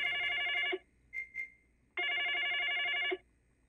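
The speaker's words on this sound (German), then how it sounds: "Aber ach, das Telefon klingelt." A telephone rings in the Nevermind horror video game in two loud, bright, trilling bursts about a second apart, separated by a quiet pause with a couple of soft knocks.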